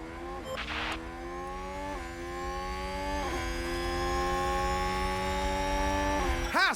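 Engine of a Haas Formula 1 race car in the game F1 Manager 2022, a loud, steady high-pitched whine that climbs through several gear shifts as it pushes past another car, ending with a brief sharp burst.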